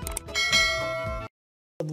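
A ringing notification bell sound effect with bright, sustained metallic tones for about a second, cut to silence, then a brief new tonal sound at the end.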